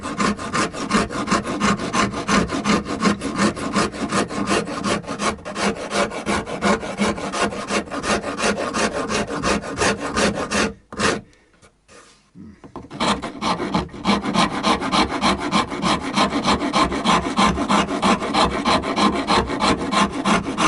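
A Shinto rasp files wood in steady, rapid rasping strokes. The scraping is loud and close, with a brief pause midway before it resumes at the same pace, and no voices are heard.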